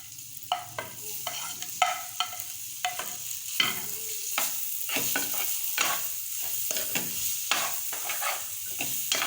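Chicken pieces stirred and sizzling in a pan for shawarma, with repeated scraping strokes of a spoon over a steady frying hiss, close and alone.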